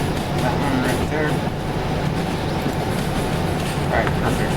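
A train rumbles along steadily in the Derail Valley railway simulator, its continuous engine and wheel noise running underneath someone talking.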